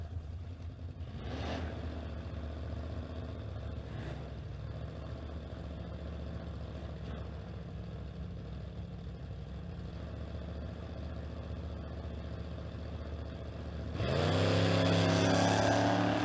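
Drag racing cars, a 409 and a Camaro, idle and rumble steadily at the line, then one engine roars up loudly and close near the end with rising revs.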